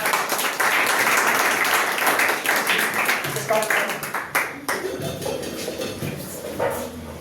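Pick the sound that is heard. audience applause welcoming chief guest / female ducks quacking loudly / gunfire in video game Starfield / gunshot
audience applause welcoming chief guest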